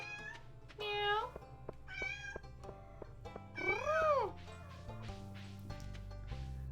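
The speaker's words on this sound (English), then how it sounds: "She doesn't even really meow anymore. She just makes, like, purring noises." Two pet cats meow close by, giving several drawn-out rising and falling calls with quieter soft purring sounds between them and a person talking softly in the background.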